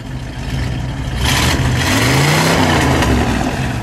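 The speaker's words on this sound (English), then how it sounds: "Go ahead, give it a rev. One more time." A 1959 Plymouth Sport Fury with a 318 V8 idles loudly and then revs up in a rising, rumbling swell before easing back, close by and with no talking over it.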